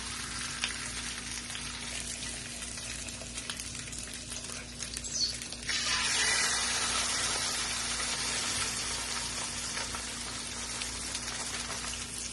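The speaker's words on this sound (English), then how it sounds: "Now we're going to take the Branzino and place it into the pan and press it down." Branzino fillets, seasoned with salt and pepper, frying in a hot pan while being pressed down, a steady close sizzle that jumps to a louder, brighter hiss about halfway through and holds there with no talking.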